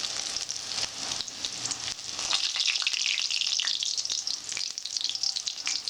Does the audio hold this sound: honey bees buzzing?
no